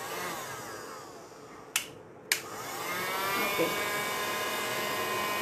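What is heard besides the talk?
hair dryer drying paint on a DIY sign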